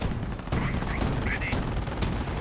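Rapid battlefield gunfire from Company of Heroes, with bursts of machine-gun and rifle shots running continuously under a commentator's voice.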